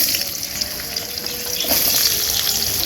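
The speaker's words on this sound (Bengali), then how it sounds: "ওই তেলে আলুগুলো ভেজে নেবে" Steady sizzle of potatoes frying in oil, a dense crackling hiss with a brief louder burst midway, no talking.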